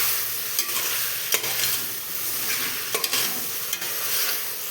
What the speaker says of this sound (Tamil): மஷ்ரூமும் அப்படியே நல்லா வதக்கி விடுங்க